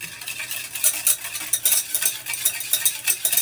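Oil whisked into yogurt in a bowl for an eggless cake batter, producing brisk, rapid scraping and swishing strokes of a spoon against the bowl, close and fairly loud, with no voices.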